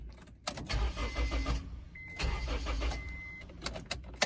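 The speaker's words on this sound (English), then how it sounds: "it'll crank or it'll turn over, but it won't quite start." A Honda CR-V with a faulty distributor cranks repeatedly without firing, two long rhythmic cranking bursts with a pause between, loud and close, ending with a clunk.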